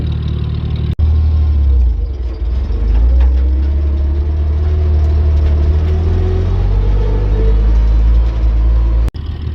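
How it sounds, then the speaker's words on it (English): A tractor pulls a hay wagon down a hayfield during small square baling, its engine giving a steady, loud, close low rumble that holds throughout with no talking. "So I'm gonna run this wagon down the field, check the hay"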